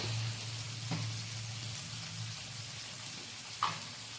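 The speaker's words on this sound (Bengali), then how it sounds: "কড়াইতে আমি পেঁয়াজ আর কাঁচা লঙ্কা ভাজতে বসিয়েছি" Steady low sizzle of onions and green chillies frying in a wok, with a couple of soft clinks of a utensil against the pan.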